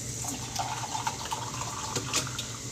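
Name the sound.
running water from a tap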